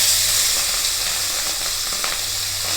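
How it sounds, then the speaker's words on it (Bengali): Prawns sizzle loudly in hot mustard oil in a wok, a dense, steady hiss of frying close up with faint crackles throughout. "গ্যাস অন করে কড়াতে সর্ষের তেল কিছুটা দিয়েছি। এবার মাছগুলো ছেড়ে দেব।"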